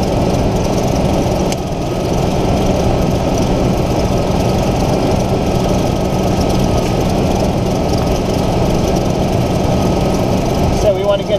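A car engine idles steadily with the A/C compressor running during a recharge, a continuous low rumbling drone with a faint constant whine, close and fairly loud throughout.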